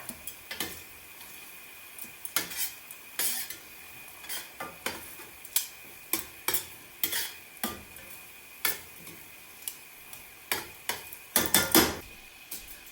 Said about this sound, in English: we're gonna take our veal, put it back into the sauce. And we're really gonna get these all coated in there.